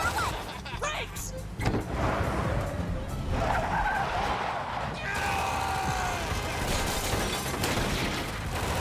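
Cartoon car brakes screech and tires skid in a long, loud, continuous squeal with mechanical rattles, heavily overlapped by excited shouting voices.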